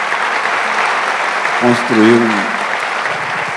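An audience in a hall claps loudly and continuously at a literary festival, a dense steady wash of applause that runs throughout, with a short spoken word breaking through it midway.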